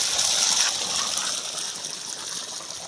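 Water gushes steadily from a 2.5-inch solar-powered DC borewell pump in the evening, a continuous broadband rush that stays loud and even throughout with no talking.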